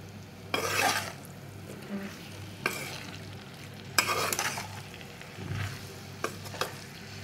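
Keema with potato, capsicum and onion is stirred in a frying pan, with a few separate bursts of scraping and mixing over a quiet background hum, followed by softer clinks near the end.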